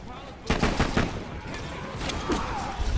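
Golden gun fired in Borderlands: The Pre-Sequel, a run of sharp, rapid gunshots cracking through a dense, noisy game soundscape for about two and a half seconds.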